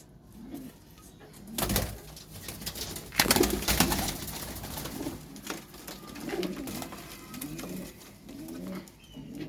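Pigeons in a loft coo in a series of low, rolling calls, with some louder bursts of rustling or clatter early on.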